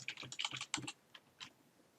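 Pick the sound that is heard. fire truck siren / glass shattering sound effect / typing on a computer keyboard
typing on a computer keyboard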